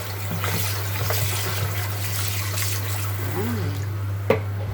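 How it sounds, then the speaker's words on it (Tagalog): Raw chicken is rinsed under a running tap, a steady stream of splashing water over a low constant hum, with a brief spoken word and a sharp clatter near the end. "Then, hugasan ng running water."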